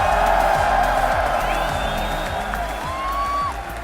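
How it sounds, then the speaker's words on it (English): Home arena crowd at an esports Counter-Strike semi-final in London, a loud continuous roar of cheering and whooping filling the space, with rhythmic pulses hinting at chanting and a few whistles rising above the din. "I was just hearing some chants."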